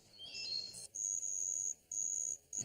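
A stick rubbed against a wooden wheel mimics a cricket, giving four short bursts of shrill, steady chirping separated by brief gaps, fairly quiet and with no voices.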